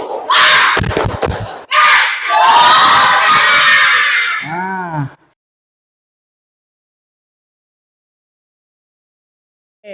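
A school class does a rhythmic spirit clap chant in a classroom: a burst of loud, close claps and children's shouted voices lasting about five seconds, then sudden silence.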